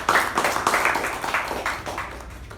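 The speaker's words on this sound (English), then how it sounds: "a round of applause to the table topics" Meeting audience applause at a Toastmasters-style club gathering, a steady patter of many hands clapping close by for a couple of seconds, no voices on top.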